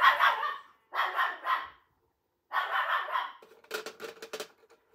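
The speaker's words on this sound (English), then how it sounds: "Now the dog's barking at the lamb." A dog barks at a lamb indoors nearby, several loud barks in separated clusters with a silent gap, followed by faint higher yipping or scraping sounds.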